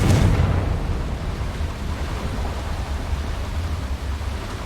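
A Confringo blasting spell explodes in Hogwarts Legacy: a sharp burst opens the sound, then a dense, rumbling roar continues, loud and steady, with no voices.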